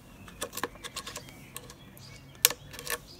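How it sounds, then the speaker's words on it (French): Scissors snip through thin plastic to shape shark teeth for a homemade cup-and-ball toy, producing a quiet series of sharp, irregular clicks and crunches with one louder cut near the end. "il faut découper à l'aide des ciseaux et en suivant les traits que nous avons dessinés, les dents du requin"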